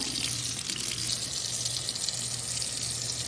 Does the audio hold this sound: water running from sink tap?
yes